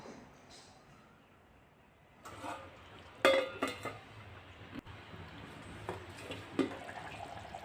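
A metal spoon clinks and scrapes against a pot of hotel-style beef curry in irregular bursts, close by, over a low background hum.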